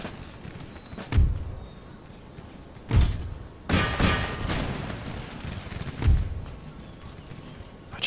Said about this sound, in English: Here comes the fire support.